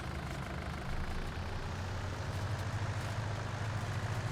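A tractor engine in Farming Simulator 19 drones steadily with a low, rumbling hum that holds at a constant level throughout, with no voices.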